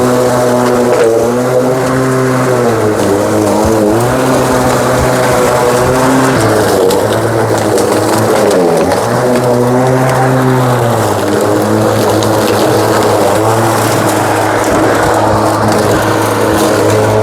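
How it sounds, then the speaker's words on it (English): Keenstone 17-inch 40V cordless lawn mower running loud and close, a steady electric motor whine with a buzzing harmonic drone that dips briefly in pitch before recovering. "as long as you keep on pushing the lever, the engine will start."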